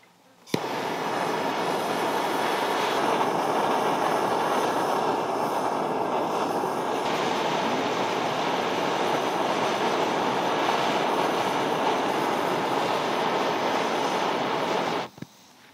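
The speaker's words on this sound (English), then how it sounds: "I think this map gas will be hot enough to melt the sand." A MAP gas torch heating a pile of sand, producing a steady broadband roaring hiss that runs unbroken for about fifteen seconds, close and constant, then cuts off abruptly.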